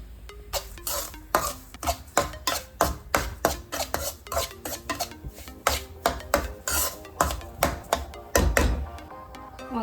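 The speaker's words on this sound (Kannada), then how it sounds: "ಚೆನ್ನಾಗಿ ತುಪ್ಪದಲ್ಲಿ ರವೆ ಚೆನ್ನಾಗಿ ಇದನ್ನು ಫ್ರೈ ಮಾಡ್ಕೋಬೇಕು" Rava stirred and fried in ghee in a pan over a low flame, a steady run of scraping, rasping strokes from a spoon against the pan bottom with faint metal clinks, close and fairly loud, with no talking.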